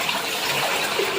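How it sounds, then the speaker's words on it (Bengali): Steady broadband wash of running and splashing water while clothes are washed by hand at home, continuous and fairly close with no talk. "তো কয়েকটা আবার হাতেও কেচে দিচ্ছি।"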